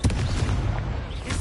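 A Confringo spell explosion in Hogwarts Legacy, a short, heavy boom with a rumbling low-end tail, close and loud, followed by a second thud.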